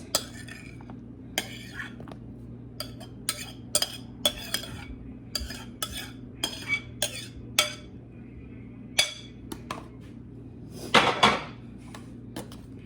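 Utensils clink and scrape against a bowl while tomato and purple onion are mixed for ceviche, a series of sharp, close taps and scrapes at an irregular pace with a steady low hum underneath and no talking.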